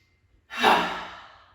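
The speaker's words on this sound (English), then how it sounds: "Dramatic out the mouth, drop the shoulders, exhale." One long, deep exhale pushed out through the mouth during a gentle yoga breathing exercise, starting suddenly after near silence and fading slowly, heard up close.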